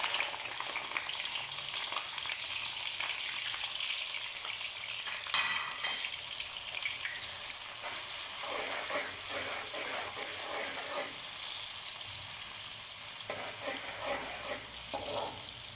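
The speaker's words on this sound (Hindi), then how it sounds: "प्याज को गोल्डन कलर आने तक हम फ्राई करेंगे" Sliced onions fry in a pan for a spinach and mutton curry, a steady close sizzle and crackle running throughout, with occasional stirring scrapes and no talk.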